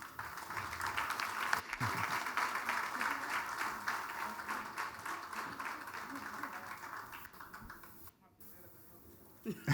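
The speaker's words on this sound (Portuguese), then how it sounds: "Os vossos aplausos." Audience at a ceremony launching centenary activities in Angola claps in sustained, fairly quiet applause that fades toward the end, with a few voices faintly underneath.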